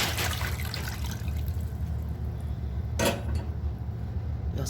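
Water runs into a cooking pot holding a stuffed chicken with pepper, onion, vinegar and oil, a steady close splashing trickle with a brief louder clatter partway through, no talking.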